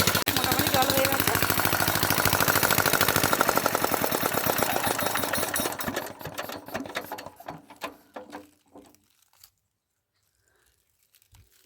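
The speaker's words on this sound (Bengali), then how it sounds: "চলো মেশিনটা বন্ধ করি, মোটামুটি জল হয়ে গেছে।" Small irrigation water pump engine in a paddy field chugging fast and steady at close range, then slowing as it shuts off, its rapid beats spacing out and fading into near silence.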